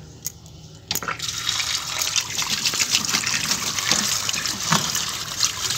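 Tap water runs steadily over red amaranth leaves being washed, a continuous close splashing and trickling that starts after a brief quiet moment and carries on alone.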